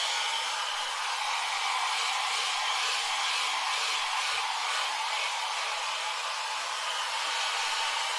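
A handheld hair dryer blows steadily and loudly at close range while hair is dried after dyeing, a continuous airy roar holding level for the whole stretch with no talk over it.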